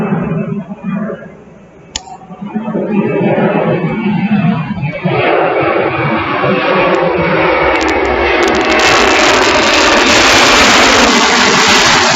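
A jumbo jet roars loudly overhead, its broad engine rumble and hiss swelling from a quieter start into a sustained, near, overwhelming roar.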